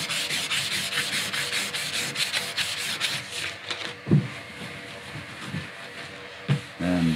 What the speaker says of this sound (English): I'm actually sanding out the scratches of the sideways movement